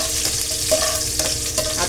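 Garlic frying in hot oil for gobi manchurian, a close, continuous sizzle with light stirring scrapes throughout, no talking.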